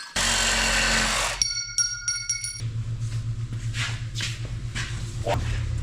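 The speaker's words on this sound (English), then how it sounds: "we're going with the good old Sawzall this time" A Sawzall reciprocating saw cuts metal on an off-road rollback build, opening with a loud, harsh burst, then a few ringing metallic tones before settling into a rougher, lower buzzing rasp.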